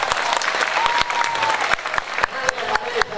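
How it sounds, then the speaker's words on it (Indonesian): Student audience at a high school orientation event clapping together in a dense burst of applause, with a voice speaking over it near the end. "Mantap, tepuk tangan."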